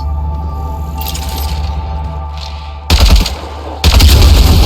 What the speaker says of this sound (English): Shooting the device will destroy it.